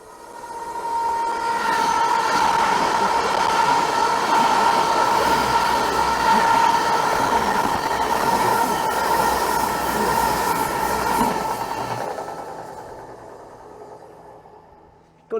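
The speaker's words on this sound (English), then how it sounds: "Got the HST in the station, so hopefully we'll get to the bridge and get a proper shot of it going past." An HST passenger train pulls out of a station at Dawlish, a loud, sustained rumble and whine that builds, holds steady, then fades away at the end.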